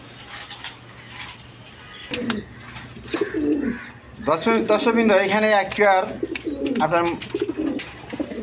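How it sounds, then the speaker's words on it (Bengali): A lively pair of modern pigeons hopping about in a pen, wings flapping and soft cooing close by, under someone talking throughout. "মডার্ন কবুতর দেখেন, খুব লাফালাফি ফালাফালি করতেছে, একদম চঞ্চল কবুতর"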